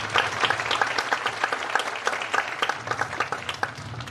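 Graduation audience applauding steadily at a Bacon Academy Class of 2021 ceremony, a dense crowd of clapping hands sustained throughout at moderate level with no speech over it.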